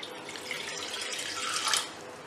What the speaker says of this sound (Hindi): पैन को चूल्हे पे चढ़ा के हम इसके अंदर सबसे पहले दो कप पानी के डालेंगे